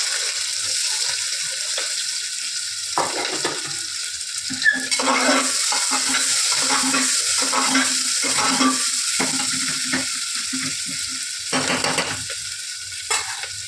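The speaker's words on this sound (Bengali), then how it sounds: "পেঁয়াজটা অল্প একটু ভাজলেই হয়ে যাবে" Chopped onions fry in a tempering of oil and green chillies in a pan, a steady sizzle with repeated scraping and clinking of a spatula stirring against the pan, close and uninterrupted by speech.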